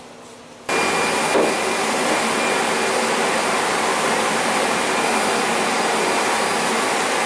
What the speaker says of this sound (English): You're going to be hearing a lot of fans going on